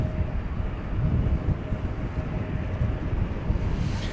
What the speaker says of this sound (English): We've got American Flight 852 from Denver about to make a touchdown. This will be an Airbus A321 here on Runway DFW